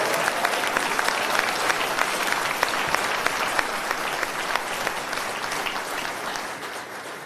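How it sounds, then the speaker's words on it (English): Audience applause at a Reform UK party conference in South East England, a dense sustained wash of many clapping hands that eases slightly toward the end. "let's give Kemi a big round of applause from all of us at Reform"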